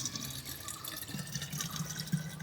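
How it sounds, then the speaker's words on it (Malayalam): Water fills a plastic bottle meant for planting bamboo, a faint, continuous trickling and gurgle close by, with no voices. "ചുമ്മാ ഒന്നിൽ വെള്ളം നിറയ്ക്കുകയാണേ"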